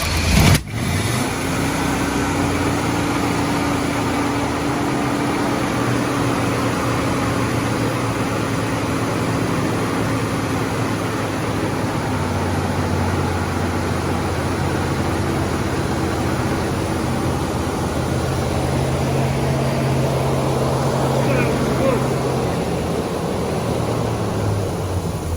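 A car engine catches after a brief loud start at the beginning and then runs steadily at low revs for the rest of the clip, a continuous near rumble with no talk over it.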